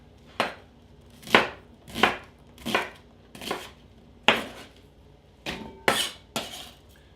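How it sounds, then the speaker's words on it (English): A knife slicing onion and carrot thin on a cutting board, nine steady, loud, close chops with short pauses between them and no talk. "Let's slice it fairly thin so it'll cook up quick."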